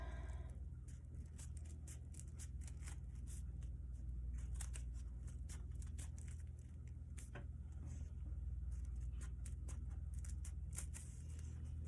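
Scissors snip a run of quick, tiny slits along the open top edge of folded paper for a Claude Monet art project, the sharp clicks close and irregular over a steady low background hum.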